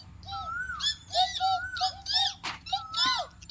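A child imitates a parrot's call, giving a string of bright, chirpy whistled squawks in quick bursts, close and fairly loud, with one sharp noise near the middle.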